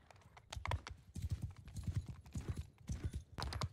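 Horse archers gallop in the medieval battle game Mount and Blade Bannerlord, their hooves pounding in a fast, dense clip-clop rhythm that stays loud and close throughout.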